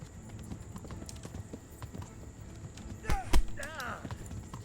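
Hooves clip-clop on a horse in the medieval video game Kingdom Come Deliverance, a steady patter under game ambience, then a louder thud and a short whinny near the end.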